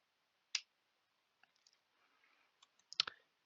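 A computer mouse gives two sharp, close clicks about two and a half seconds apart, with a few faint taps and rustles in between in an otherwise quiet room.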